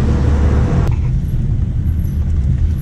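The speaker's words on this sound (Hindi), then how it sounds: "ये किस तरह से ट्रैफिक है बाहर, और ट्रैफिक जो है ना बेहंगम ट्रैफिक है।" Heavy road traffic streams past at Sea View Beach in Karachi, a steady loud rumble of cars, buses and motorbikes, with a brief knock near the start and no speech.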